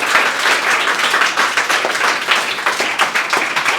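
A crowd at a Teachers' Day celebration welcomes a teacher with loud, energetic, sustained clapping, dense and close throughout, with no speech heard.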